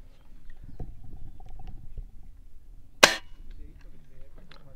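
An air rifle fires a single diablo pellet in a penetration test, one sharp, close crack standing out alone against quiet background noise.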